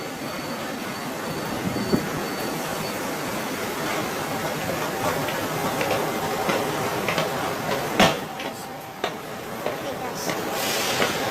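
A train pulls into a station in Vienna, with broad rumbling rail noise, rising wheel squeal and scattered clanks throughout, steady and fairly close.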